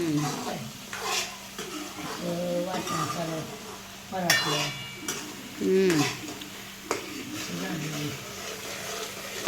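Masala is sautéed and stirred in a pan for a village-style Maharashtrian misal. Spoon scrapes and clinks repeat over a faint sizzle while several people talk throughout.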